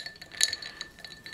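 A glass of cold water clinking, one bright ringing chink followed by a few fainter light taps, close by and alone.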